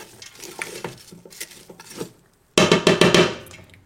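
Onions stirred in a pan with a utensil give close, clattery scrapes and metallic clinks. A short near-silent pause is followed by a louder, busier burst of stirring.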